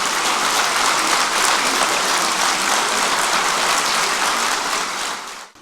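Loud, sustained applause from an audience of overseas Pakistanis welcoming a speaker at a London gathering, a dense unbroken wash of clapping that fades out at the very end.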